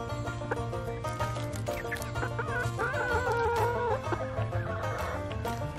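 Backyard chickens cluck and chatter continuously as they are let out of their enclosure, several birds overlapping in a busy, close flock with rising and falling calls.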